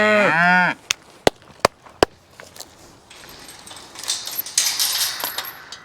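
A single loud cow moo opens, followed by a few sharp clicks and knocks, then rustling and faint movement noise.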